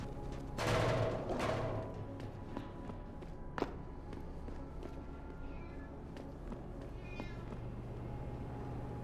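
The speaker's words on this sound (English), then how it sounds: "There's a cat meowing." In the video game Deus Ex Human Revolution, a cat meows twice in quick succession, moderately loud over a steady hum of ambient game noise, followed by a sharp thud and scattered faint taps.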